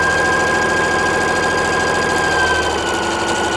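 A home sewing machine runs steadily, chain-piecing a row of quilt blocks for a Shoo Fly variation, a continuous close mechanical whir and hum with no pauses.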